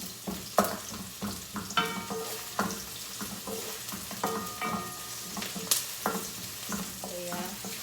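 Onion sautéing in a pan for adobo, with a continuous close sizzle and frequent clinking, scraping stirs of a utensil against the pan, no talking.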